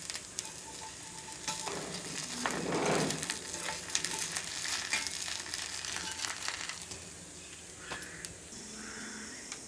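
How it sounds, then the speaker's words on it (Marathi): Rice-flour ghavan batter sizzles on a hot oiled pan, a steady broadband hiss that swells loudly for a moment before settling into a continuous crackle with faint clinks alongside. "बाजूक तेल शिजत ठेवलंय. आता घावणं काढतलं."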